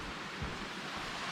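Kautz Creek on a Mount Rainier trail rushes steadily, a broad continuous wash of flowing water close by, with a soft low thump partway through.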